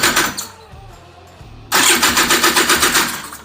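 A Honda Odyssey FL350 with a new DG exhaust cranks for a few seconds, then fires up loudly and settles into a rapid, pulsing idle, close by with no talking.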